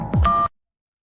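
A telephone number is dialed in a single short burst: a brief keypad tone over a low sweeping sound, loud and close, cutting off into silence after about half a second.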